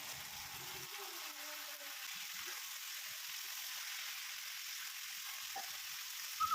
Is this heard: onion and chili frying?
yes